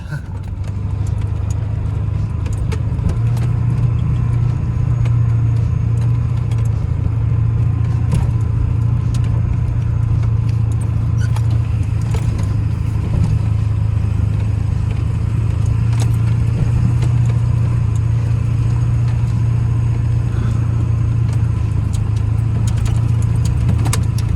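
A Ford F250 pickup's 7.3L Powerstroke diesel engine, suffering fuel starvation, runs steadily for a long stretch as a loud, close, continuous low rumble with a faintly uneven idle.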